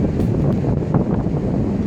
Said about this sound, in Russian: Дует очень сильный ветер